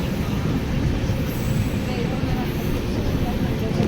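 A train on the Kakinada–Samalkot junction route runs at high speed. A loud, steady rumbling roar of wheels and carriage fills the whole stretch, heard from on board.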